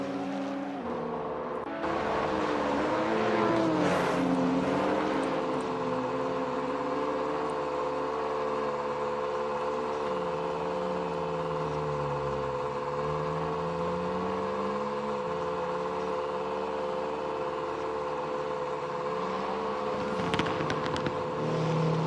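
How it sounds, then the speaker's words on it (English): Steady drone of racing car engines in a racing video game, pitch sliding up and down as cars accelerate and pass, continuous and loud with no talking. "Cars do sound nice though."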